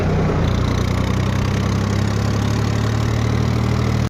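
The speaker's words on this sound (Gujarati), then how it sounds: "આજ તો ટ્રેક્ટર ઘરે લઈ જવાનું" A tractor engine idles steadily nearby, a low chugging rumble with a constant rhythmic throb that cuts off abruptly at the end.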